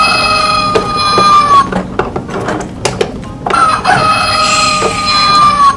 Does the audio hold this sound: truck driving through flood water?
no